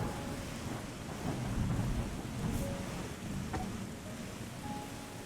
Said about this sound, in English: let's let the rain solve my toxic waste problems